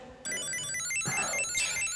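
An AirNotch item tracker's dual buzzers sound a bright, steady electronic tone with a repeating high melody, fairly loud and continuous after a short quiet start.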